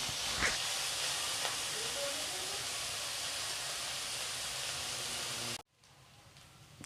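Sliced onions fry in a pan with a steady, loud hiss and sizzle that cuts off abruptly near the end, leaving a much quieter background.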